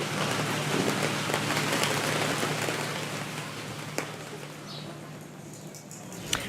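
Steady broadband patter of rain falling outdoors at a book fair, a continuous moderate hiss with a couple of faint sharp ticks, easing slightly toward the end.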